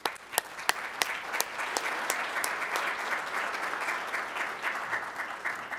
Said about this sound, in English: Let's thank her with our applause as she comes.